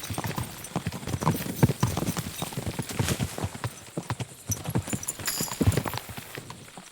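Horse hooves clip-clop steadily in Kingdom Come: Deliverance 2, several horses moving together in a parade, a dense clattering rhythm that is loud and close throughout.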